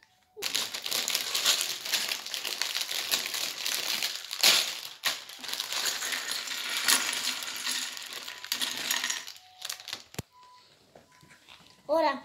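Plastic Lego sticker bags being torn open and crinkled by hand, a dense, continuous rustling and crackling close up that runs for about ten seconds, then stops, followed by a few quieter handling sounds.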